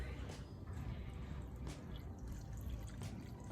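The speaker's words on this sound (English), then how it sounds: "I'm gonna fill it with just straight water in there." Water is poured from a container into a blender for a green coffee protein smoothie, a steady, moderately close splashing fill that runs continuously without pause.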